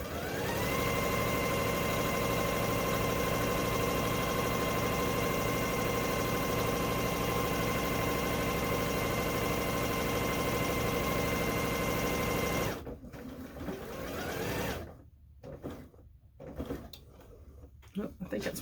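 A sewing machine stitches a Halloween fabric table runner, a steady loud mechanical whir for about twelve seconds, then stopping into quieter handling noises while a person talks.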